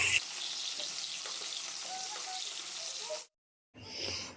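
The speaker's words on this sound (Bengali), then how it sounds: "আর আমার এদিকে মাছ ভাজাও প্রায় কমপ্লিট" Continuous hissing sizzle of fish frying in oil, close and steady, cutting off abruptly before resuming briefly.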